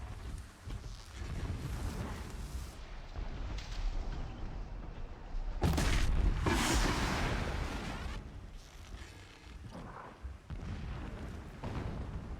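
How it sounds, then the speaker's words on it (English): Distant explosions rumble in the video game Horizon Zero Dawn, dull booms rolling over a steady game soundscape, with one heavier burst near the middle and no speech. "Explosions in the distance."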